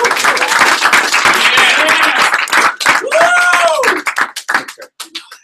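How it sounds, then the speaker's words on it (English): An audience claps at a sales division meeting in Punta Cana, loud dense clapping that thins into scattered claps toward the end, with voices and whoops mixed in over it. "So big round of applause, a lot of energy from Mr. Orlando."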